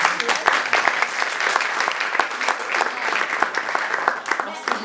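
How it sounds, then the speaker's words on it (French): An audience at a literary reading salon applauds the author Mahi Binebine, a dense, sustained clapping from a room of people, fairly loud and even, with a voice faintly over it. "le monsieur Mahidindi mérite qu'on lui applaudisse"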